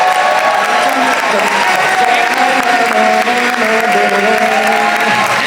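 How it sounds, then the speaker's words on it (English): A crowd at a Classic Tetris semifinal at a gaming expo claps steadily and loudly throughout, with some cheering mixed into the dense applause. "We get a huge round of applause to IBall and Meme for a fantastic semifinals"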